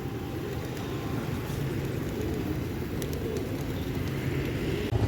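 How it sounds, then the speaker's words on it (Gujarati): A large flock of pigeons is being fed grain in a city street, making a steady mass of cooing and fluttering that persists throughout with no speech. "જોવો ચણ ઓછું છે અને કબૂતર જાજા છે"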